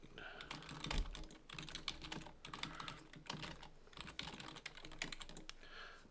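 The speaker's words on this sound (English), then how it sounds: "I was trying to concentrate on typing correctly for a change" Keys clatter on a computer keyboard in quick, uneven bursts of clicks with short pauses, close and fairly quiet, with no talking over them.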